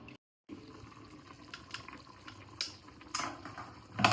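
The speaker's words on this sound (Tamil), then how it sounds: "இந்த தண்ணியை கீழே ஊற்றாமல் சட்டியில் எடுக்க வேணும்" Water left from boiling rice is poured into a cooking pot during chicken biryani preparation: faint, intermittent splashing and trickling that swells louder toward the end, with no voices.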